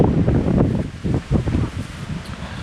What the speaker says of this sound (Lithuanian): Nors ir saulė šviečia, bet vėjas didelis, šalta